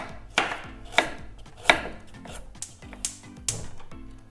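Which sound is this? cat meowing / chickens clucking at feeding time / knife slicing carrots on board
knife slicing carrots on board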